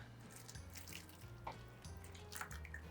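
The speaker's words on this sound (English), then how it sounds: "Then pour it into a heat-proof container" A faint liquid trickle and drips as homemade sukiyaki sauce is poured into a heat-proof container, soft splashes and brief tinkling drips over quiet room tone, with no talking.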